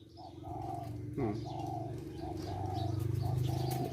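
Spotted doves coo in repeated soft phrases, close and clear, with a lower continuous cooing from another dove running underneath; no talking.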